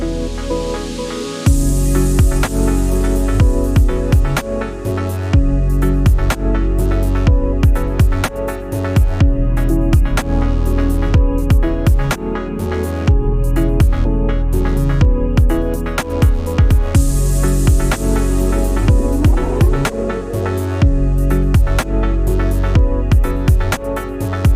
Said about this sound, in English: how to make a full song using only 3x Oscillator